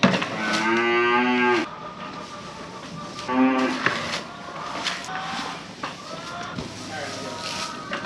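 Cattle moo loudly and close, two long harmonic calls followed by several shorter lowing sounds, over a steady background hum.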